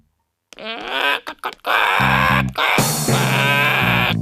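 A person mimics a turkey, with a burst of nasal, bleating gobbles followed by steady buzzing, warbling calls, loud and close, without speech.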